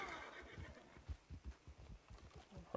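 A horse in Red Dead Redemption 2 whinnies, its high call fading as thudding hoofbeats and rhythmic clip-clops follow, fairly close.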